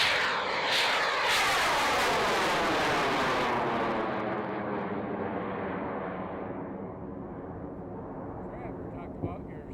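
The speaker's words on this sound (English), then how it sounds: "Talk about your slow, majestic liftoff." A model rocket lifts off on a homemade research motor with a loud roaring rush that sweeps downward in pitch and fades steadily as it climbs away into the distance.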